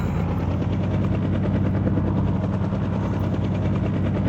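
A helicopter in a zombie video game drones loud and steady, with a continuous rotor chop and engine whine throughout and no pauses.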